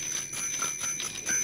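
Bell of a bicycle in a radio fairy tale rings with light, repeated metallic tones in short bursts, fairly close and clear with no talking over it.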